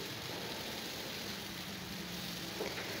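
Garlic, shallots and chili stir-fried in a pan for a stir-fried clam dish give off a steady, broadband sizzle that stays constant throughout, fairly close and continuous with no talking.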